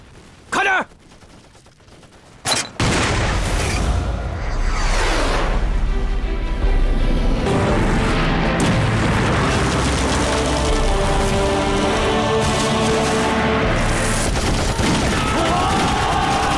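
Artillery shells exploding in a Chinese war film battle, with two sharp blasts early on, then a sustained loud roar of bombardment and gunfire that rumbles continuously to the end.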